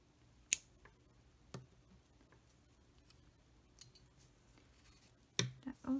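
Scissors snip crochet yarn with a couple of sharp, quiet clicks and then a small cluster of snips near the end, close up in an otherwise hushed room.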